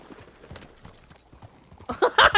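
Horse hooves clip-clop on a path in the video game Red Dead Redemption 2, a soft, irregular run of light hoof taps, then a louder, busier burst of game sound at the end.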